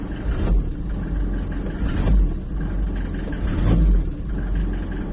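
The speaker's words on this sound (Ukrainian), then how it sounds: "Зараз буду підгазовувати, обратно вернуться обороти." A cold Mercedes OM 601 2.3-litre diesel van engine in light frost at about -3°C, idling close by with a rough low rumble and revved in three short swells of throttle, no talk over it.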